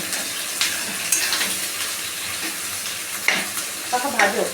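Onions being stirred and fried in oil in a pan while preparing mutton curry, a continuous close sizzle with scraping strokes and occasional clinks of utensil against pot, no talking.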